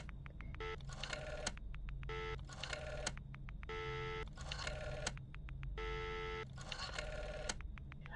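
A telephone rings inside a virtual cabin in the Friday the 13th game, repeating bursts of electronic trills separated by short gaps over a low steady hum, quiet and without talk.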